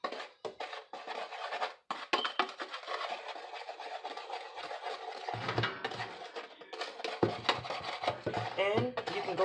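Chicken tender seasonings being stirred together in a bowl, with a steady run of scraping, clinking and tapping from the utensil against the dish, loud and close, broken by a few short pauses.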